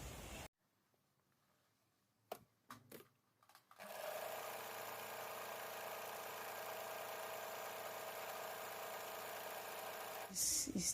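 A Singer Talent 3321 sewing machine stitches a thick decorative zigzag. A few taps and clicks come first, then a continuous close mechanical whirr runs for several seconds and ends in a quick rattle.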